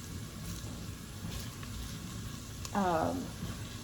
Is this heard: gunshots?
no